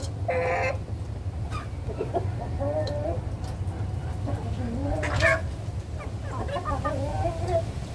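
Cornish Bantam chickens cluck and call repeatedly at feeding time outdoors, close and fairly loud over a steady low background hum, with brief higher squawks scattered throughout.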